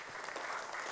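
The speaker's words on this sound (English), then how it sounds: "Give her a round of applause." Brief audience applause at a church service, a short patter of clapping that sounds fairly distant and faint, with no talk over it.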